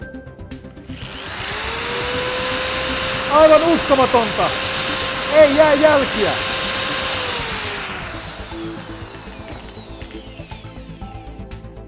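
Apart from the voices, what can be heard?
electric drill on phone screen protector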